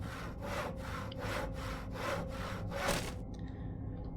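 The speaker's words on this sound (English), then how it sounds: "But we can saw our way through." Repeated sawing through a wooden obstacle in an iron mine in the Penumbra: Overture video game, about six steady back-and-forth strokes, close and loud, ending with a brief clatter.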